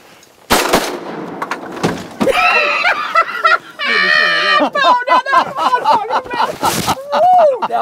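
Shotguns fire during a duck hunt on Buchanan Shoals, a loud blast near the start and another mid-clip, with excited talk and laughter from the hunters filling the rest.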